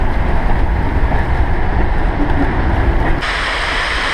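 A Cass Scenic Railroad train passes during a rail fan weekend at Old Spruce Junction in Cass, West Virginia, giving a loud, steady rumble that drops suddenly to a lower, quieter roar near the end.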